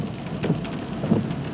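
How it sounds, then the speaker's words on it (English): Rain falls steadily in Kansas as a dense, continuous hiss, moderately loud and even throughout, with no voices over it. "It's been raining in Kansas since early April."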